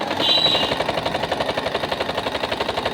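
Sewing machine running a zigzag stitch, a loud, fast, even mechanical chatter of needle strokes close up, steady throughout without talking.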